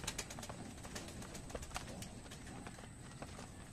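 Racing pigeons coming back to the loft from a 104 km road training toss, with soft wingbeats and cooing against steady outdoor background noise, no speech.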